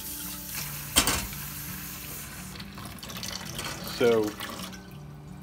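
Water poured into the reservoir of a Keurig K-Duo Plus coffee maker, a steady rushing stream running throughout, with a brief spoken word near the start.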